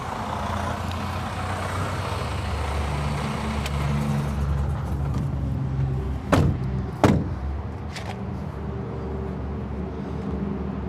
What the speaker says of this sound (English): I'll show you just how we can shut down or close down this hood very safely on a truck this size